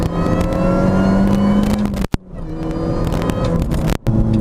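A supercharged Mini engine revs hard and loud as it accelerates in first gear, the roar cutting out briefly twice from traction control before surging again.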